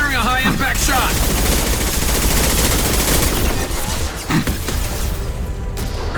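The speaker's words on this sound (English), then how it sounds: "Firing a high-impact shot!" In the Mass Effect 2 firefight, high-impact gunfire crackles in a dense, loud, continuous barrage mixed with impacts and a whoosh, while a brief shouted voice cuts through near the start.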